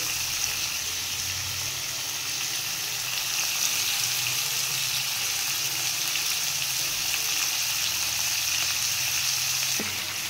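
Prawns frying over a high gas flame for an Odia prawn malai curry, a steady loud sizzle that holds evenly throughout with no voices.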